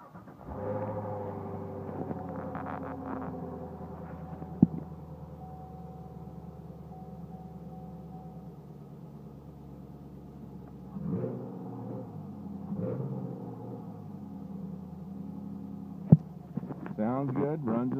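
A 2020 Chevrolet Camaro engine starts and settles into a steady low idle rumble. Its level swells a few times, with sharp clicks and a brief rev toward the end.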